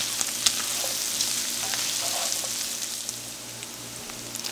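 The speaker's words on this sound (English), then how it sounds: "I am adding in 1 cup of chopped white onions. Mix that in." A cup of chopped white onions fries in a pan with a loud, continuous crackling sizzle like steady rain, with occasional faint ticks and pops throughout and no voices.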